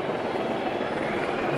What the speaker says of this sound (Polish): Drugi helikopter przyleciał.